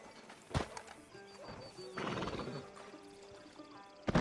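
Horse hooves clop and a horse whinnies in the Red Dead Redemption 2 video game, with a sharp snort, a longer neigh in the middle and scattered hoof thuds, fairly close but quiet against game ambience.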